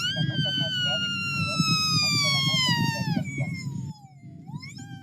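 A plant leaf is played like a reed to imitate an ambulance siren, a loud, clear whistling tone sweeping steadily downward over several seconds before bending back up, with voiced sound underneath.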